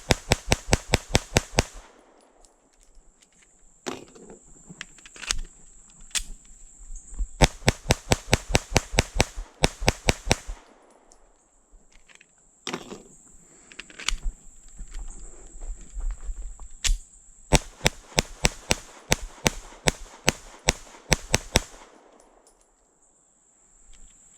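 Rapid strings of pistol shots from a Shadow Systems CR920P handgun, several bursts of a dozen or so sharp cracks each, separated by brief pauses with handling and footstep noises in between.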